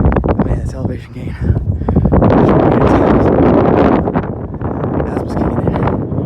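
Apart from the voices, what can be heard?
wind blowing on a steep mountain hike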